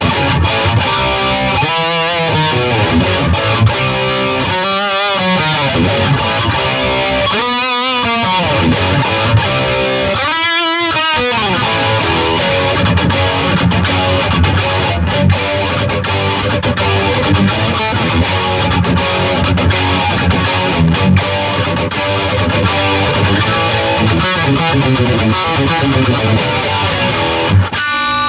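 A silver Dean Dave Mustaine VMNT guitar played through an Engl Ironball Special Edition 20W amplifier rings out with a continuous, heavily distorted tone, loud and close, mixing sustained chords and riffing without any talk.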